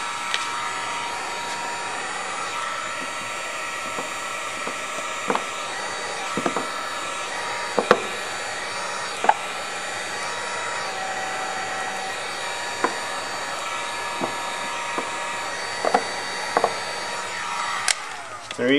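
A heat gun warms ControlTac Torn Metal vinyl graphic film into a body crevice on a Ford Mustang GT. It gives a steady, close blowing roar throughout, with a few faint taps and clicks.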